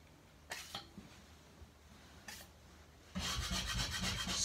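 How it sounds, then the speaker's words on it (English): A putty knife scrapes a patched wall during room prep for painting: a few short rasping strokes, then a steady, louder continuous scraping for the last second or so, close and with no talk. "Scrape it if you have to"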